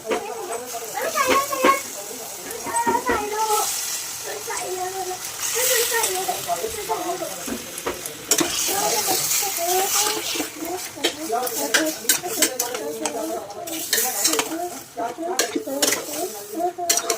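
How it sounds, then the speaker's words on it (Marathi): Chicken goes into a pan of sizzling spice paste and is stirred, with steady frying hiss and scraping, clattering utensil strokes heard under a voice talking throughout. "त्याच्यावर आपण चिकन सोडून घेऊया."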